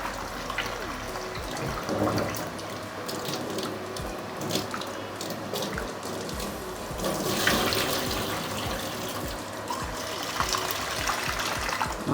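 Masoor dal being washed under a running kitchen tap, with a steady close stream of water splashing into a vessel and sink, continuous and without talk.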